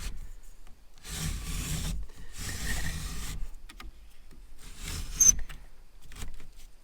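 A bent, sticky cell booster antenna mast on an RV being pushed down, giving three rough scraping, rubbing bursts of metal grinding against its sleeve, close and fairly loud, separated by short pauses.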